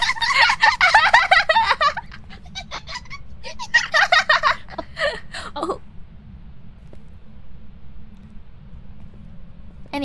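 A voice imitates a loud hissing, sizzling stream in two bursts, like fat frying, then trails off into quiet background noise.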